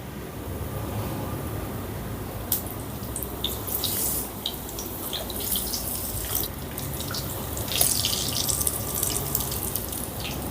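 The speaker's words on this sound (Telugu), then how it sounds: "ఆయిల్ వేడైందండి ఇప్పుడు మనం బోండాలు వేసుకుందాం" Potato-filled aloo bonda dipped in batter and frying in hot oil, making a continuous hissing sizzle with scattered crackling pops at moderate loudness and no talking.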